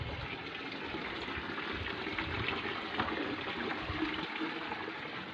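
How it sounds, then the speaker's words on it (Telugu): Water being poured onto a chili plant in a garden makes a soft, steady gushing and trickling flow, fairly faint and continuous, with no talking. "ఫుల్గా వాటర్ పోస్తాను, కొద్దిగా డౌన్ అయ్యిద్ది"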